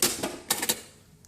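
A sewing machine back-tacks a seam on a jacket collar, giving a few quick, close mechanical clacks in short bursts that then trail off into quiet.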